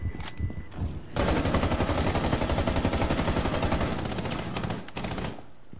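Sustained automatic gunfire tearing through a wall in Rainbow Six Siege, a fast, loud, rattling stream of shots lasting several seconds after a few scattered rounds, then a short final burst.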